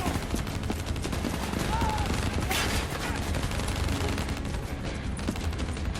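Dense, continuous bursts of turret fire and other gunfire rattle through a Call of Duty: Black Ops III battle, with voices speaking over it.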